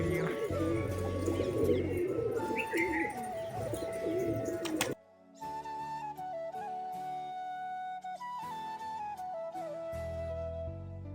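Pigeons coo with soft, repeated calls, sometimes overlapping, close by but quiet, with a brief break midway.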